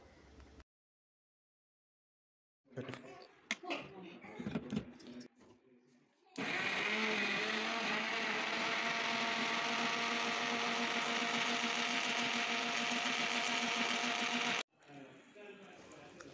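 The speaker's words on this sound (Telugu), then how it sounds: "1 గ్లాస్ పాలు పోసుకుని మిక్సీ ఆన్ చేసుకోండి" A kitchen mixer blending apple, banana, sugar and milk into juice, running as a loud steady whirring drone for about eight seconds after some handling noise, then cutting off abruptly.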